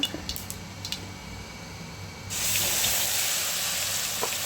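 A paste of onion, garlic and ginger dropped into hot oil with cardamom, cloves, cinnamon and cumin, a few light taps followed by a sudden loud, steady sizzling hiss that continues to the end.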